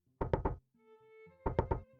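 Two sets of three sharp knocks on a door, evenly paced and close, separated by a pause with a faint tone.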